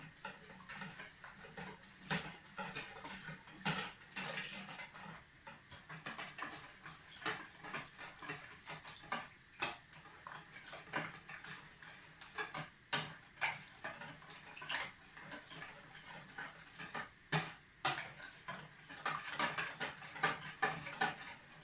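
A batter mixture with vanilla essence is stirred steadily in a bowl, soft wet scraping and light clinks repeating in an irregular rhythm, quiet and close, with no talk.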